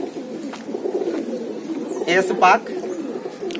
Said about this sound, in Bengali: এটা হচ্ছে একটা জিরা জাতের কবুতর